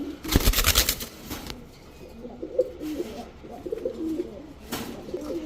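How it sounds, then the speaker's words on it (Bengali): Low, soft pigeon coos murmur through the clip after a brief burst of rustling at the start, fairly close and moderately quiet. "এখন দেখাবো এক জোড়া বুট ঠোঁটের চুইনা কবুতর"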